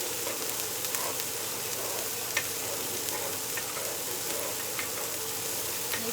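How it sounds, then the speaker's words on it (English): A spoon stirs pasta in a pot of water on the stove, giving a steady bubbling hiss with faint scraping and light knocks, close and continuous. "So I'm just going to stir our pasta."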